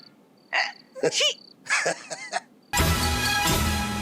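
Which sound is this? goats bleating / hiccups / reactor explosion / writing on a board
hiccups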